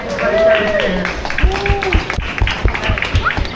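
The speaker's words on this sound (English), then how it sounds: "Give them all a round of applause real quick, guys." Passengers applauding aboard a tour boat, scattered claps and cheers under a guide's amplified voice and a few whistling calls, the clapping uneven and fairly close.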